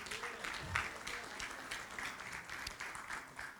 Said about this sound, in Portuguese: Uma salva de palmas para o Senhor, bem forte,